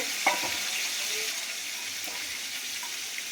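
Prawns fry in hot oil in a pan, giving a steady, close sizzle and crackle with a few faint scrapes and taps in the mix.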